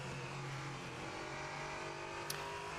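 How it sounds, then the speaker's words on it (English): An LMP3 prototype race car in a sim racing game at the Sachsenring circuit gives a steady, loud engine drone under power throughout, with no pauses. "Karthallen is accelerating and shifting up through the corners"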